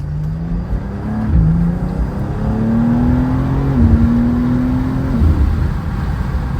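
A Mercedes CLS pulls hard on a Mexico run, engine note climbing steadily through the gears with one brief shift, loud and close from inside the cabin with road roar underneath.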